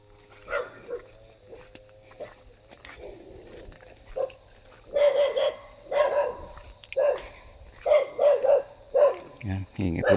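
A dog barks repeatedly around a rural house beside dry cornfields, the barks coming in clustered bursts that grow louder and more frequent, with a steady low hum underneath and a person speaking at times.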